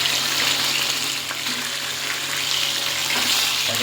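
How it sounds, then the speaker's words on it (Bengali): Rohu fish pieces frying crisply in hot oil in a pan, a steady, loud, continuous sizzle with no pauses and no talking. "কড়া কড়া করে ভাজা হচ্ছে"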